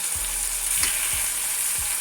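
Beef steak searing in a hot frying pan gives a constant loud sizzle, with a few soft low knocks of the pan or utensil underneath and no voices.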